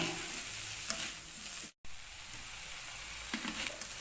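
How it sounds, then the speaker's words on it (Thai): Field rat meat and vegetables stir-fry in a pan, a steady close sizzle and hiss with occasional scraping stirs and a brief cut-out partway through, no talk. "คั่วไปได้ จนว่าน้ำแห้งเนี่ยค่ะ"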